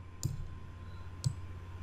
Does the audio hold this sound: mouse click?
yes